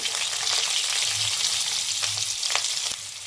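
Onion hits hot oil with mustard seeds, cumin, curry leaves and four green chilies, giving a loud, steady, close sizzle that holds unbroken throughout.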